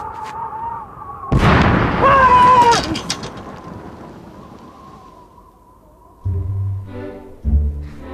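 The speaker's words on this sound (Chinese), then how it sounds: "这是传说中的轰天雷" A Honghtianlei firecracker goes off with one loud, close boom that rolls and rumbles for over a second before fading to quiet, followed by some low knocks and shuffling.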